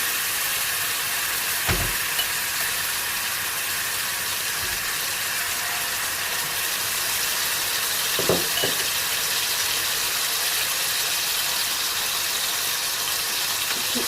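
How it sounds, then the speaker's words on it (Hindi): Chicken fillets fry in well-heated oil over a medium flame, a steady close hiss and sizzle running throughout with a few faint clicks and knocks, no talk. "ऑयल हो चुका हुआ गरम अच्छे से। अब इसके अंदर चिकन के फिले फेर देंगे।"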